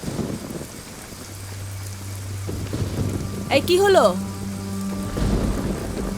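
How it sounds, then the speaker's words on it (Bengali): A sharp thunderclap crackles and rumbles overhead during a rainstorm, rain hissing steadily throughout, with a low hum beneath and a voice speaking briefly. "মেঘের গর্জন আর বৃষ্টি"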